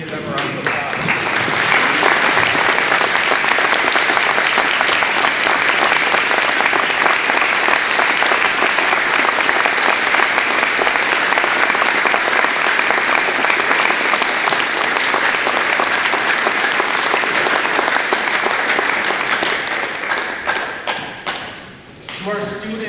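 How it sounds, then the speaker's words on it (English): A school auditorium audience gives sustained, loud applause for standing veterans at a Veterans Day program, the dense clapping continuing for about twenty seconds before tapering off. "We can give them a round of applause."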